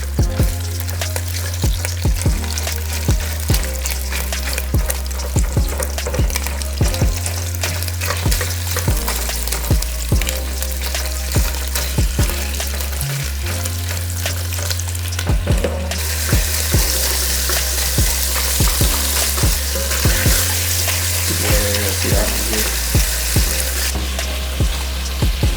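Three skinned sausage links, crumbled and browning in a soup pot, sizzle loudly and steadily while a utensil taps and scrapes in quick, repeated strokes to break up the meat; no one talks.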